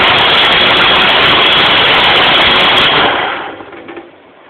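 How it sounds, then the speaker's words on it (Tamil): A mixer grinder blends pieces of large muskmelon into juice, running as a loud, steady whirring roar for about three seconds before winding down and fading out. "பெரிய கிர்னி பழம் எடுத்து நல்லா பீசஸாக கட் பண்ணி இங்கே நான் ஜூஸ் போட்டுட்ருக்கேன்"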